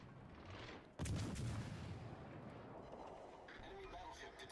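Battleship guns firing in World of Warships, a sudden loud boom of a salvo followed by rumbling echoes and distant crackle, with someone talking over it.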